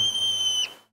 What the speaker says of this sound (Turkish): Mesela bu kısacık ses bir kartalın onların üzerinde uçtuğunu söyler.